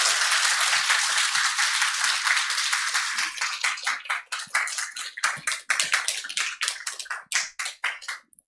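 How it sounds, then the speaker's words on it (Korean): A church congregation at an early-morning revival service applauds in dense, sustained clapping that thins over several seconds into scattered individual claps. "사랑의 마음을 모아 박수로 환영하도록 하겠습니다"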